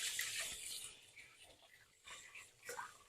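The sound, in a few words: tap water running while washing hands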